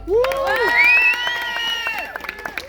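A comedy club audience at a stand-up show cheers and whoops loudly, with rising shouts and scattered claps over about two seconds before the noise fades into sparse clapping.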